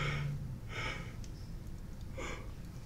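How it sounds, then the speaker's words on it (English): A person's yawn during a live coding session: a drawn-out breathy exhale with gasping intake, heard close and alone over a quiet room, with a softer breath following. "Oh, excuse me. Sorry for the yawn."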